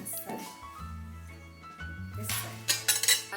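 Bright clinks of glasses in a toast ring out near the end, a few quick taps in succession, following background music and voices.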